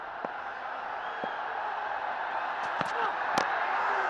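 Steady crowd murmur fills a Pakistani cricket ground during the post-lunch session on day 5 of a Test against Sri Lanka, with a few sharp knocks and bat-like clicks rising briefly above the constant wash of spectators.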